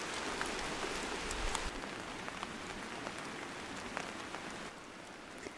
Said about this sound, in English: I just got caught by the rain, so I stopped making the fire, and now I'm just waiting it out because it's just a light rain shower.